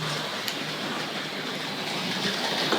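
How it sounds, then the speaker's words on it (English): A Tri-ang RFX suburban electric model train set runs along its track and slows toward a stop, giving a steady, close whirring rumble with faint rail clatter and a brief click near the start. "So I'm going to bring the Triang train to a stop just about there."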